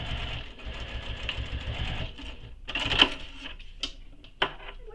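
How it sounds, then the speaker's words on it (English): A sewing machine backstitches across the top of a nylon bag, a close rapid mechanical whirring stitch with a few sharp clicks and knocks toward the end. "I'm just going to backstitch across the top too for some extra security"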